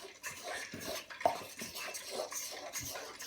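Water being stirred into flour to make a batter for sweet and sour chicken balls, heard as close, steady scraping and clinking of a utensil in a bowl, continuous with small bumps and no talk.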